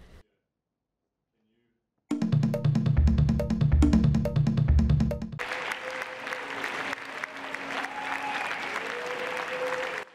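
Diplomats applauding a Montreal Protocol amendment on ozone layer protection, with quiet at first, then dense, sustained clapping that shifts into a steady crowd roar, heard alone.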